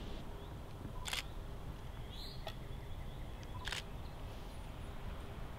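Two sharp camera shutter clicks from a single-lens reflex camera, a few seconds apart, over a quiet background hum.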